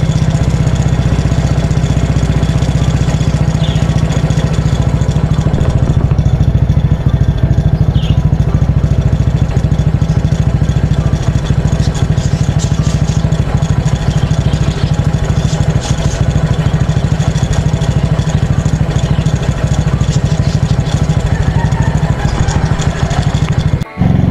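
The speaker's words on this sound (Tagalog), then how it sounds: "Yan, painitin na muna natin yung makina." A motorcycle engine idles while warming up, steady and close by, a constant low rumble with light mechanical clatter that holds for the whole stretch.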